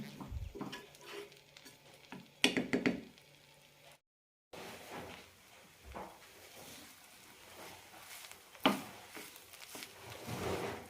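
A spoon stirs rolled oats vegetable upma in a pan, making scraping, shuffling strokes over a soft sizzle. There is a brief silent break, then more uneven stirring knocks and scrapes.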